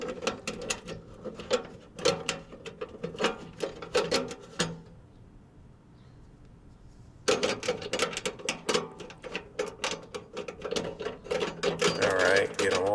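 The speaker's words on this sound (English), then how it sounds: "get them all 3 started, grab my screwdriver, and get them all tightened down" Screws are driven by hand with a screwdriver into the aluminum part of a Pit Boss PBV4PS2 grill. Close, repeated ratchet-like clicks come in bursts, with a quiet pause midway before the clicking resumes.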